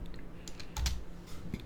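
Quiet, irregular clicks of typing on a computer keyboard, a short run of separate keystrokes at close range with no voices.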